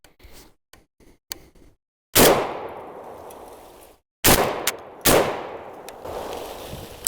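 A Tokarev TBP12 shotgun fires three loud, sharp blasts of nine-pellet double-aught buckshot at a target about ten yards away, each report echoing and decaying, spaced a couple of seconds apart after some faint clicks and handling noise.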